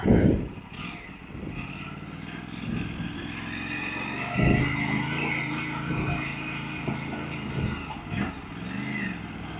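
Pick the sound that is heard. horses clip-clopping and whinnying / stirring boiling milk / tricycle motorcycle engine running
tricycle motorcycle engine running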